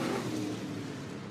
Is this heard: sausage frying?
no